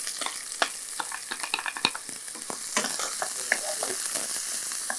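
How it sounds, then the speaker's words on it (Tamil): Onion and snake gourd frying together in tempering oil with curry leaves, making a steady close sizzle dotted with light clicks of stirring. "இந்த வெங்காயம் போட்ட உடனே நம்ம என்ன பண்ணுறோன்னா இந்த புடலங்காவும் இதில் போட்டுடுறோம்"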